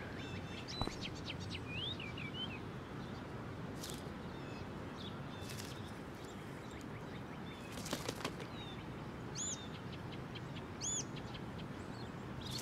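Birds chirp and wings flutter in the Life Is Strange: Before the Storm game world, with short tweets scattered over a constant quiet outdoor ambience.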